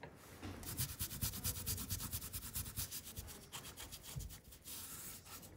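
Wax is rubbed by hand onto thrifted home decor pieces, a close, steady scuffing and brushing with quick repeated strokes and no talking.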